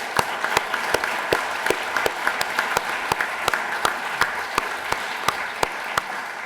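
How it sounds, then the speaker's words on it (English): A lecture audience applauds steadily, a dense wash of clapping with a few sharper individual claps standing out in a regular pattern throughout. "Can you give them a round of applause?"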